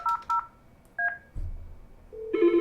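A desk phone on a FreePBX system dials extension 200 as three short, clear keypad tones, two quick ones and then a third after a pause, followed by a low click and a steady tone in a quiet room.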